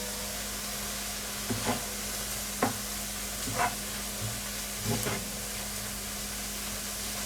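Kimchi and Cheongyang chili peppers stir-fried in a pan for kimchi fried rice, giving a steady soft sizzle with a few light scraping stirs of the spatula at uneven intervals, heard alone and fairly quiet.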